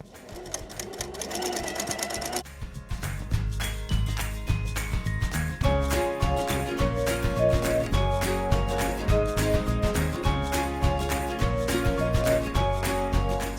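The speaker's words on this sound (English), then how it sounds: "So we're going to sew all the way around the top of this." A sewing machine top-stitches around the top of a drawstring bag, running in a fast, steady mechanical chatter after a brief opening burst. It stays loud and close throughout with no talk.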